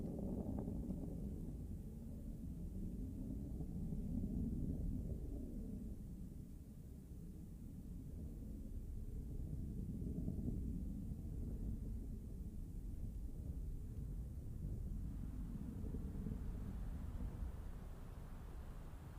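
The BE-3 engine of Blue Origin's New Shepard rocket gives a steady, deep, distant rumble during launch, swelling and easing slightly over nearly twenty seconds, with a hiss running continuously on top.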